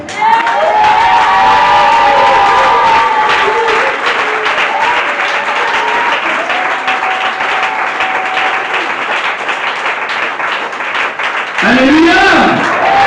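Church congregation cheering and applauding during a French-language service, sustained loud clapping and shouting from a large crowd filling the room for over ten seconds before a short break.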